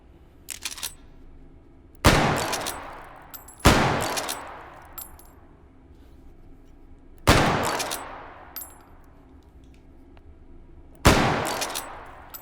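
A lever-action gun firing in H3VR, four loud sharp shots spaced a second or few apart, each ringing out in a long fading tail, with faint mechanical clicks of the lever between them and no talk.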